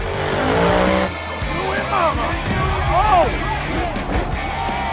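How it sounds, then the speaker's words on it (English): Monster trucks race in an NBA arena, engines roaring and tires squealing in repeated skids, loud and close throughout with voices audible underneath. "God damn, these monster trucks are dangerous."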